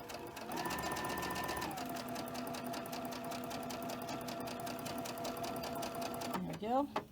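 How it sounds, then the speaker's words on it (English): Sewing machine chain stitching soft quilting fabric, its rapid steady motor whir and needle chatter running continuously before stopping near the end, with someone speaking over it. "I will chain stitch these 4"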